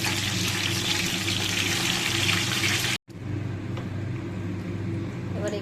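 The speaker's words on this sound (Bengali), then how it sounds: "তারপর চিকেনটা দিয়ে দেবো এর মধ্যে।" Chicken dropped into hot oil and ghee in a pan, a loud, steady hissing sizzle close up that cuts out abruptly for an instant midway and then resumes slightly softer, with no talk.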